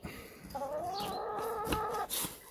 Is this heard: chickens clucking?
yes